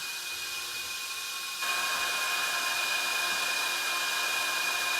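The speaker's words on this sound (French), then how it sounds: "là il y a les ventilos qui sont en marche" Cooling fans on a 1/8-scale Genius RC car run steadily with a constant whirring hiss, growing a bit louder and brighter partway through and holding there to the end, with no talking.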